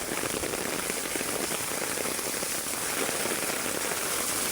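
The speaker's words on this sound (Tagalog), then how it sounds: "Lakas talaga ng ulan, mga idol." Heavy, unrelenting rain pours down at a flooded resort beside a swimming pool, a dense, steady roar of drops drumming on surfaces that holds constant and loud throughout with no voices.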